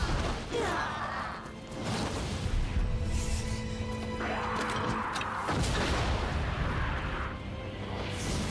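A hand cannon firing in Nioh 2 lets out several heavy, booming blasts spaced a few seconds apart, each with a rushing, crashing tail, loud and close with no talking.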